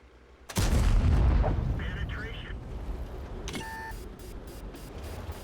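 Tank main gun fires in a video game, the M4A1 Revalorisé: one sudden loud boom followed by a long rumbling decay, with a short electronic beep pattern near the end.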